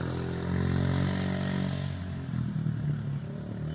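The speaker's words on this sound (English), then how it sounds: "Loud motorcycle." A motorcycle roars past loudly, its engine note steady and full for about two seconds before easing into a rougher, fading rumble with some clatter.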